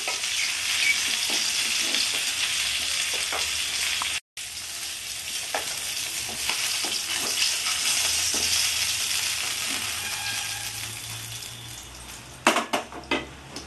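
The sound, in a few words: frying bata fish pieces in oil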